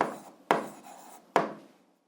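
A pen writing down an answer to an algebra problem, two quick scratchy strokes about a second apart with a faint rub between, close and quiet, no talking.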